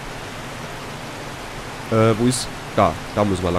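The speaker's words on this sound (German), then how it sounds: "Ist ja mal gar nicht laut, der Regen." Steady rain falls in the video game 7 Days To Die, a constant broadband hiss running through the whole stretch while people talk over it during the second half.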